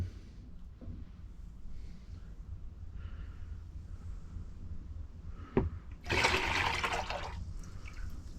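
Water from a cracked radiator sprays out over a narrowboat, bursting in as a loud hiss after a sharp knock, following quieter interior sounds.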